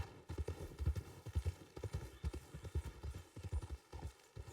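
Galloping horse in the Red Dead western video game, with steady rhythmic clip-clop hoofbeats close and loud throughout and a brief whinny mixed in.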